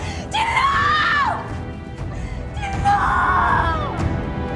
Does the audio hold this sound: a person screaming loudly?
yes